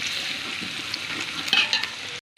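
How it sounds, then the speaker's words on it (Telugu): Spice powders sizzle in hot oil in a pan for a traditional curry, a close, steady hiss with a few brief stirring scrapes before it cuts off abruptly. "కారం వేసుకొని బాగా ఫ్రై చేసుకోవాలండి."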